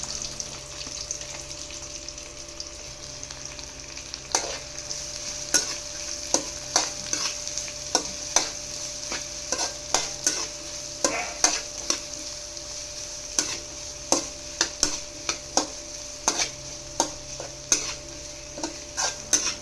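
Garlic and small onions sautéing in a pan for tuna fish curry, with a low steady sizzle under repeated sharp stirring scrapes and clinks of a spoon against the pan, quickening toward the end.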